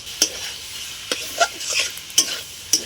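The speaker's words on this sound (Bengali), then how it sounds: "ভালো করে নেড়ে নেবো" Taro stolons tossed in a pan with mustard, green and red chilli, turmeric and salt, stirred in four or five sharp scraping strokes over a steady close sizzle, with no talk.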